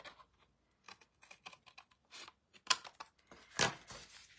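Quiet, close snips of scissors trimming excess paper for handmade Christmas cards, a scattered series of short crisp cuts with a couple of louder slices near the end.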